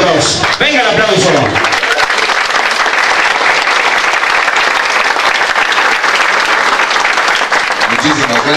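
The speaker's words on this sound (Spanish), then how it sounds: "Venga el aplauso." An audience at an office inauguration breaks into loud, sustained applause, dense clapping that stays strong throughout, with a voice briefly heard over the start of it.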